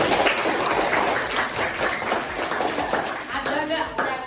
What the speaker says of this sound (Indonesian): tepuk tangan untuk kelompok salah